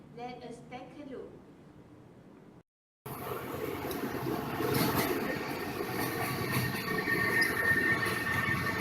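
Light rail train at KL Central LRT station in Malaysia, a rumbling, rattling train sound that swells and persists after a short gap, with a voice speaking at the start.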